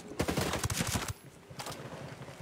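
Bursts of gunfire in a solo sniper match in a shooter video game, a dense volley in the first second, then a quieter pause and a brief second flurry, moderately loud.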